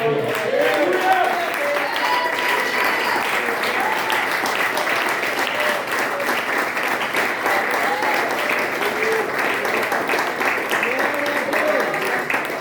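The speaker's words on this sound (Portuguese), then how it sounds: "dar uma salva de palmas ao Senhor" A church congregation at a teaching service gives sustained, loud applause to the Lord, a continuous wash of clapping with voices and cheers mixed in throughout.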